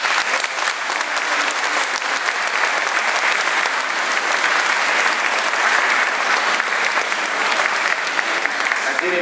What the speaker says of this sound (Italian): applauso per me.